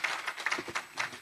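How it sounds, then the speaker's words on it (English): A conference audience applauds a research presenter: a brief, dense patter of many hands clapping, fairly close and full, with no voices over it. "Ndlovu another round of applause"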